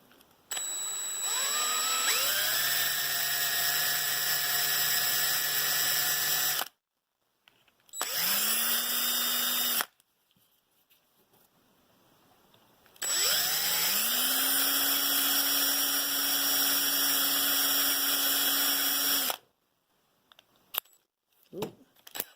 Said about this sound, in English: Drill it out some more.